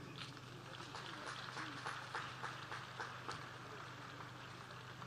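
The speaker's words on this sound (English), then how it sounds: "A round of applause, please." A seated audience at a talk gives a quiet, steady round of applause that continues evenly for several seconds, soft and distant throughout.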